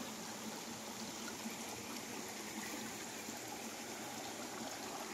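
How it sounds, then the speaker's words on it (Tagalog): A river stream running through a farm lot property, giving a continuous, even rushing and trickling wash of water with no breaks, moderately quiet and heard alone. "para po sa naghahanap ng merong ilog sa loob ng property, ayan na po"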